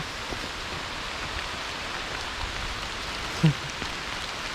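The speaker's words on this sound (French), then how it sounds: "Mais là il pleut vraiment fort." Heavy rain pours steadily on Réunion Island, a constant wash of hiss with one brief louder knock partway through, no voices.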